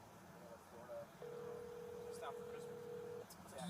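A telephone being dialed to call someone: a short tone, then a long steady dial tone lasting about two seconds, faint and quiet, with a few soft keypad blips near the end.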